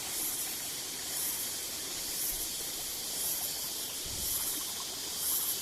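A steady, spraying hiss of water flowing down a hillside at Bandhakonda, even and unbroken throughout with no voices.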